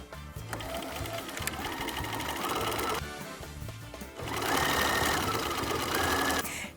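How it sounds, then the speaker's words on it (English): Sewing machine stitching a jeans waistband seam at a 1-inch allowance, a rapid steady mechanical chatter in two close bursts with a brief pause between, loud and near with no talk. "I'm going to head over to my machine and I'm going to stitch these in place at 1 inch"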